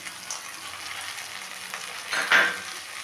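Fried cauliflower florets with fried cashews and raisins stirred in a pan, a soft steady sizzle with a brief louder scrape and clatter near the end, no talking.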